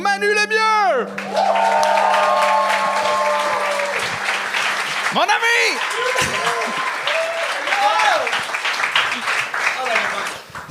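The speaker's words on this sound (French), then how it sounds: "Faites un tonnerre d'applaudissements pour Manu Lemieux!" Studio audience on the Gong Show applauding and cheering for guest Manu Lemieux, a loud dense wash of clapping under an excited host's voice shouting over it, with talk continuing as the applause carries on.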